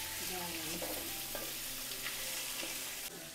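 Wild send vegetable frying in a pan with garlic, giving a steady dense sizzle close by and a few scraping stirs, with no voices.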